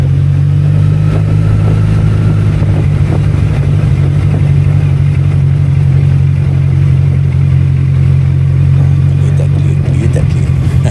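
A 2011 Kawasaki Z1000SX motorcycle cruises along a highway with a loud, constant engine drone and steady wind rush, the engine note holding even throughout.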